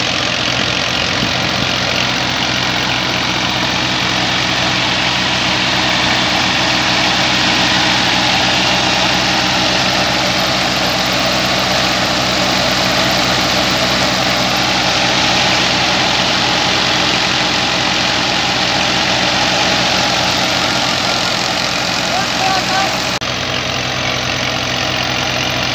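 A 2010 Massey Ferguson MF 240 tractor's diesel engine runs steadily at idle, a loud, close, continuous low knocking rumble with no voices.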